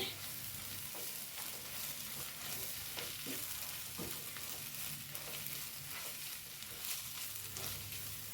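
Onion masala sizzles steadily in a pan for an egg fry while a spoon stirs it, with scraping strokes rising above the continuous frying hiss; no one speaks.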